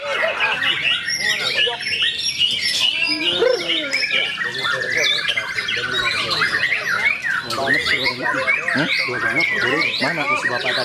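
A white-rumped shama (murai batu) songbird sings a loud, continuous run of varied whistles, trills and chirps, close and filling the whole stretch.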